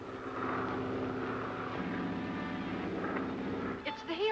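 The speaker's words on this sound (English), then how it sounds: "It's the helicopter." A helicopter flies overhead with a low, steady engine drone holding at moderate distance. Voices are heard briefly near the end.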